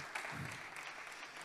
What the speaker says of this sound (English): One more, we can applaud them.